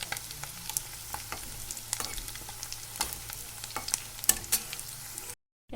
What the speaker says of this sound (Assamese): মই 5 মিনিট সময় এনেকৈ কণীৰ পকৰিখিনি ঘূৰাই পকাই লৰাই থাকিম